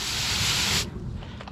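A short, dense burst of water hisses as it sprays off an RC car, loud and close for most of a second before cutting off abruptly into quiet.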